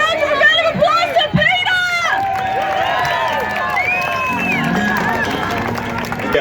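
Crowd at a March For Australia rally in Perth, cheering and whooping with shouts and some clapping in a noisy outdoor babble, with a loud voice carrying over it.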